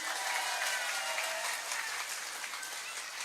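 A congregation at an afternoon religious sermon by an Indonesian female preacher breaks into applause; a broad, even wash of many hands clapping sounds somewhat distant and soft, continuing without a break.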